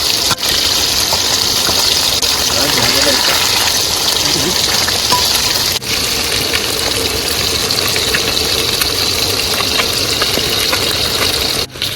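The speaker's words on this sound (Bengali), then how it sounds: "দেখো ভাই মাছ ভাজা ঠিক আছে তো, একদম কড়া ভাজা ঠিক আছে" Fish fries in hot oil with a loud, unbroken hiss and crackle throughout, while a faint voice briefly murmurs underneath.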